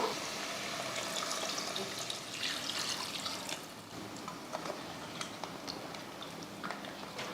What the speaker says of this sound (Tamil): இந்த டைமில் நம்ம தண்ணி சேர்த்துருவோம்.